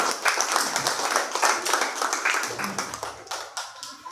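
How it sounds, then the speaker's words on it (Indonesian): Classroom children clap their hands in a ragged burst for about four seconds, close and fairly loud, with some talking mixed in over the clapping. "Tepuk tangan Tuhan."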